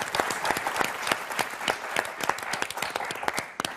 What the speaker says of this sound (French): on vous applaudit très fort